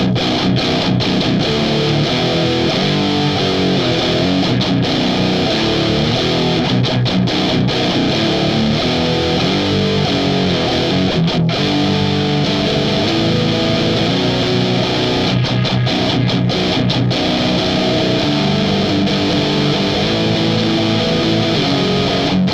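Electric guitar played through an Electro-Harmonix Tortion JFET overdrive pedal with the boost switched on, giving a thick, saturated metal tone of chugging riffs and sustained chords that play continuously and loud, with brief palm-muted gaps.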